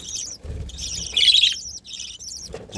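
Pet birds and chicks in a breeding colony chirp in quick, bright bursts, several calls overlapping close by with short gaps between them.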